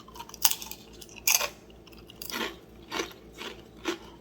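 Crispy oven-baked spiralized potatoes being eaten, a few sharp close crunching bites followed by softer rhythmic chewing, with no talk.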